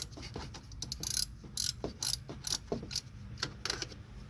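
A ratchet works 13 mm bolts loose from the vacuum pump of a 2020 Chevrolet Equinox, giving quick bursts of close, crisp clicking in an irregular rhythm, fairly quiet, with no voices.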